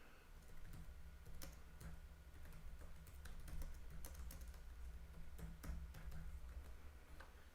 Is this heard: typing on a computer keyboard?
yes